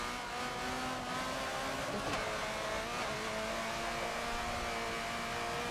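A car in Forza 7 revs and accelerates, its engine note climbing steadily as a continuous, moderately faint drone with no talk over it.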